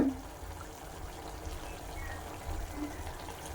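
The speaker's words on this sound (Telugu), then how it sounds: "కళాయి పెట్టుకొని దీంట్లో నూనె పోసుకోవాలి" Cooking oil poured into a kadai pan for a spicy chicken hearts fry, a faint, steady liquid trickle lasting a few seconds in a quiet home kitchen.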